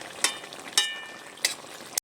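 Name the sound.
stirring cumin powder into frying fish curry in pan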